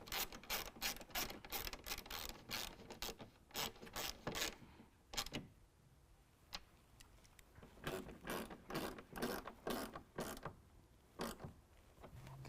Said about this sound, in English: Now we can use a 10mm to tighten down both of those bolts.